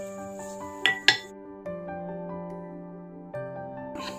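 A lid clinks twice onto a cooking pan holding raw jackfruit podithooval, two sharp close metallic taps followed by a faint ringing tail over a steady tonal background.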